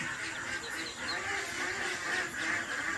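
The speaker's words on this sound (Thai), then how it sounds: "เราปีเป็ดไข่เยอะนะครับ" A flock of laying ducks on a farm quacks continuously in a dense, steady chorus that holds at an even level from start to finish, with no voices heard.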